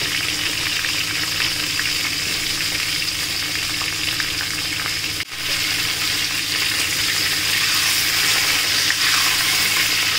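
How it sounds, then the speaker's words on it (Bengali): Pointed gourd (potol) pieces fry in oil left over from frying fish, giving a steady, close, continuous sizzle throughout with one brief dip midway; no voices. "এই মাছ ভাজার তেলের মধ্যে পটলগুলো ভাজছি"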